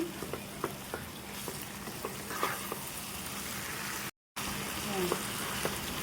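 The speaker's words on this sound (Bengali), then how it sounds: "শুকনো মাছটা নাড়িয়ে নিব।" Hilsa fish frying in a pan with lemon leaves, a steady soft sizzle with faint scraping clicks of a spoon stirring, broken by one brief gap.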